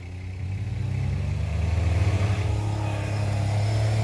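An off-road car engine on a snowy winter beach revs and strains steadily up close, a loud continuous low drone with a rising pitch and faint clatter, no voices over it.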